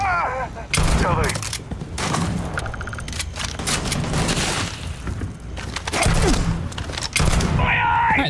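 Sci-fi weapon fire in the game Starfield, loud rapid bursts and heavy booms in sustained fusillades close up, with brief pauses between volleys and a voice speaking at moments.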